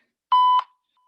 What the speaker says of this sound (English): I'm going to stop my timer.